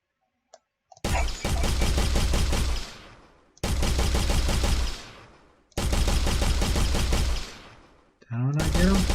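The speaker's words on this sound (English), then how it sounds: "make sure that this thing is indeed creating the shooting sound" Rapid automatic gunfire from a first- and third-person shooter game under development plays in three loud sustained bursts, each a couple of seconds long, with a fourth starting at the end.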